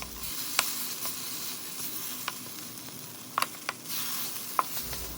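Miso is crushed and stirred into a pot of salmon-head sinigang, giving a soft steady simmering hiss broken by sharp clinks and taps of a utensil against the pot, close and moderately quiet.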